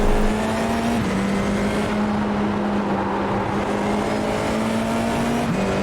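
Formula 4 iR-04 race cars idle and rev on the grid at Oulton Park in iRacing, a steady engine drone with a sustained low tone and faint overtones, briefly dipping and resuming, no voices.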